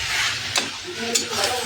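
Mutton sizzles in a kadai as it is stirred, with the oil starting to separate; a steady close frying hiss is broken by two brief scraping stirs.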